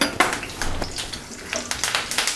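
Chana dal, mustard seeds, cumin, curry leaves and dried chilies frying in hot oil, a crackling sizzle broken by sharp spoon-on-pan clinks and scraping stirs nearby.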